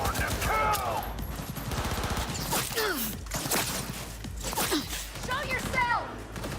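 Bursts of rapid gunfire from the video game Cyberpunk 2077 crackle and rattle through a tense shootout, with game sounds and voices speaking over the shots.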